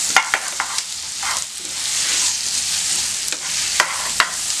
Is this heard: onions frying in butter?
yes